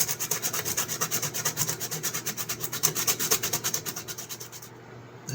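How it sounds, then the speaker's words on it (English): A knife is sanded flat on a flat sheet of sandpaper in steady, rapid back-and-forth strokes, a close, rhythmic rasping scrape that continues for several seconds before easing off into quiet. "We get a flat piece of sandpaper."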